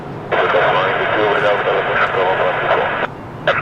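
An airliner takes off at Lisbon Airport on a windy day, its loud, steady jet roar building suddenly and holding for about three seconds before cutting off, with a voice speaking over it.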